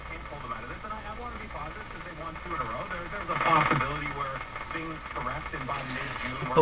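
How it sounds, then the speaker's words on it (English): A Viking Model E1 4526Z tube radio tuned across the band, giving a steady, rhythmic pounding hum that rises and falls in pitch, with someone talking over it and a brief crackle near the end. "that pounding noise going up and down as I tune across is a little unusual"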